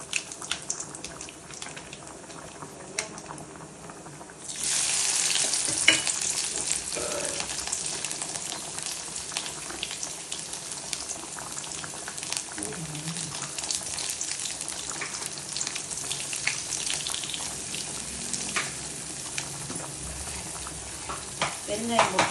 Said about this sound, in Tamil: வெங்காயம் போட்டோம், கருவேப்பிலை போட்டு தாளித்து ஊற்றிடுவோம்.